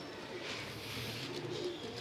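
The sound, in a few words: pigeons cooing in a cage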